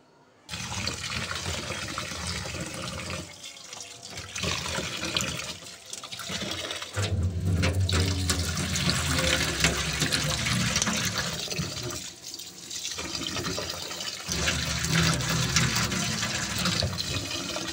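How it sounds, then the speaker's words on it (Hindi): Water running and splashing steadily as rice is washed, a continuous broadband rush with a few brief pauses, close and fairly loud throughout. "चावलों को हमने धो के रख देना है"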